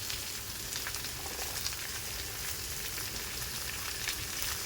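Spices with sugar, chopped ginger, tomato, salt, Kashmiri chilli powder and turmeric sautéing in a pan for ghugni, a dense, continuous close-up sizzle with faint crackles and occasional stirring, no speech.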